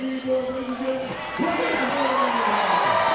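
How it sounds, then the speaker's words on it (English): Crowd roaring and whooping at a trans-Tasman shearing test at the Golden Shears, a dense wash of cheers that swells louder in the second half, with shouted voices rising through it. "Great roar from the crowd."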